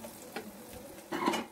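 Soft stirring scrapes and light sizzling as curry leaves and spices fry in a pan for methi dal, two brief clattering stirs over a quiet hiss.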